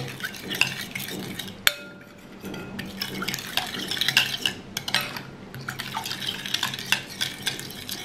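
Chicken pizza ingredients are stirred together in a bowl with salt, a spoon scraping and clinking against the bowl's sides in a steady back-and-forth rhythm, wet and close, with no voices.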